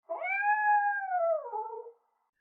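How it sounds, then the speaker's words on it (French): A single long, plaintive cat meow rising then sliding down, clear and close against silence, lasting about two seconds. "Beau-Minon secoua la tête en faisant un miaulement plaintif."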